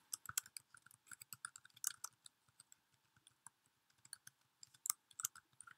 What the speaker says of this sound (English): I triple click to highlight the whole text box.